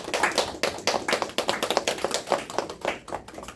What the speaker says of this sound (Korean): 박수 한번 같이 합시다.